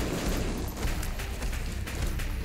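Explosions in The Binding of Isaac: Afterbirth+ video game, a dense, continuous barrage of rumbling bursts that overlap without pause and hold a steady, moderate level throughout.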